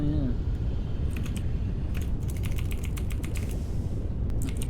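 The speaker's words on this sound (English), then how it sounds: "I hope my typing isn't obnoxiously loud" Computer keyboard typing comes in rapid bursts of sharp clicky keystrokes over a steady low background hum, close to the mic.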